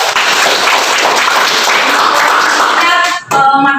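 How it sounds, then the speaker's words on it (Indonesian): A classroom group applauds a classmate with dense, steady clapping that fills nearly the whole stretch, close and loud, then briefly dips before a final burst of claps. "beri aplaus buat temennya"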